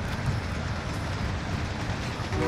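A moving train in Call of Duty Modern Warfare gives a steady, dense rumble with a low clatter that holds evenly throughout, with no voices over it.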